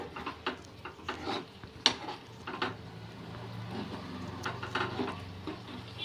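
Egg tomato curry gets stirred in a pan with a utensil, giving soft, irregular scrapes and clinks of metal on the cookware against a quiet kitchen background, with no one talking.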